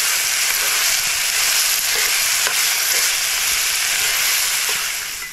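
Chopped onion fries steadily in hot oil in a pan for liver masala, a loud continuous sizzle with a few faint stirring scrapes and no voices.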